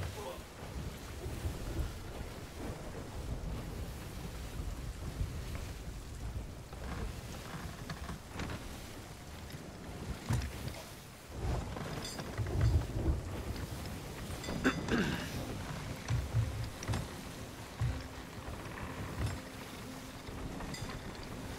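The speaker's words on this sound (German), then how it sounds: "ist das mitten im Sturm?" Stormy sea in the pirate video game Sea of Thieves, with steady rain and wind roaring throughout and deep thunder rumbles swelling in the middle, plus occasional faint voices under the storm.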